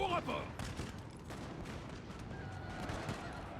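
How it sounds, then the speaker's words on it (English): Cannon artillery volleys in the Napoleonic-era strategy game Total War: Napoleon, a dense run of booming shots and rumbling fire throughout, with a voice talking over it. "Let's have those cannons fire out there."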